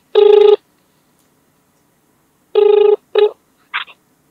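An outgoing phone call rings on the line: one loud electronic ring burst, a long pause, then a second ring followed by two short broken tones, close and clear with no talking.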